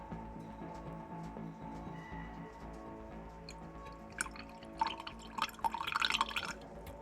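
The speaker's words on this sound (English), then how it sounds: "I'm just going to pour the remainder of this into another beaker" Liquid poured from one vessel into a beaker during a home chemistry separation, heard as a soft trickle and a few drips rising to a brief, brighter splashing pour near the end over a quiet room hum.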